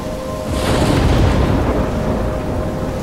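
Stormy weather in the video game Life is Strange: a steady wash of heavy rain with a deep rolling rumble of thunder swelling after half a second and slowly fading, loud and close with no voices.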